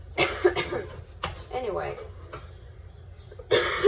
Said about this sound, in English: why am I coughing? I don't know.